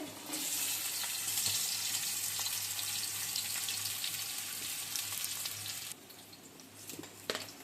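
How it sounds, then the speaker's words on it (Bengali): Potatoes fry in hot oil for chow mein, a steady close sizzle that holds for several seconds and then drops to a softer hiss with a few clinks. "এখান দিয়ে তেল দিয়ে দিচ্ছে এখন আলুটি দিয়ে দিচ্ছে"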